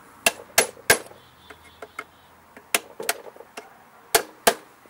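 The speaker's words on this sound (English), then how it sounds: "let me go get a little hammer. You just got to bend these tabs back." A small hammer bends back the metal tabs on a lawn mower muffler, giving about ten sharp, close metallic taps in irregular clusters with short pauses between them.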